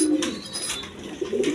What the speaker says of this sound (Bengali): আরেক পেয়ার আপনার লাল গিয়ারের হাই ফ্লাইং 2টা গিরিবাস কবুতর আছে